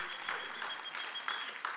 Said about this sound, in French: 1m72, on peut l'applaudir